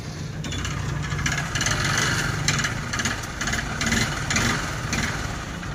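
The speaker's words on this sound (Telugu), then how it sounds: "ఒకసారి మీకు ఇంజిన్ కానీ నేను స్టార్ట్ చేసి చూపించేస్తాను" A worn motorcycle engine in a mechanic's shop, with crank noise and heavy smoke, idles loudly and close, its uneven low rumble pulsing in rough surges with no talk.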